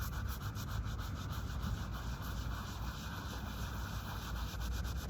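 Brushes and sponges scrub steadily across a cemetery headstone, giving a continuous close rasping rub with no pauses and no voices.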